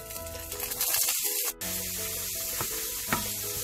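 Onions and curry leaves hit hot oil for keema, bursting into a loud spitting sizzle that briefly drops out, then settles into a steady frying crackle with faint stirring.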